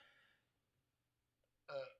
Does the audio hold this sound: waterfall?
no